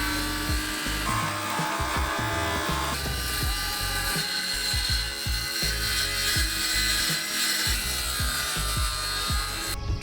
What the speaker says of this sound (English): everything has been marked down and we are all ready for the cutting